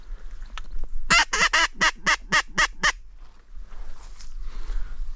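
Ducks call over a bog during a kayak duck hunt: a quick series of about eight loud, evenly spaced honking quacks close by, then fainter calls and rustling fading into the background.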